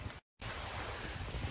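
Steady wind roaring across a microphone outdoors at Monkey Mia, Western Australia, a broad continuous rush with a brief dropout near the start, no voices.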